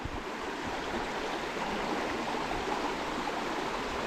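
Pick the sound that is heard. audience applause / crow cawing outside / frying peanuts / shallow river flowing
shallow river flowing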